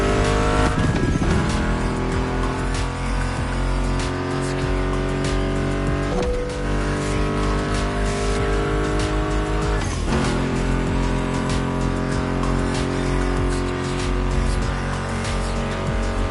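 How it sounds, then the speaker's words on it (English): Muscle car engines roar steadily in the racing game The Crew Motorfest, a continuous loud drone with brief surges, blended with a music track throughout. "Meshes well with the sound of the engines, you feel me?"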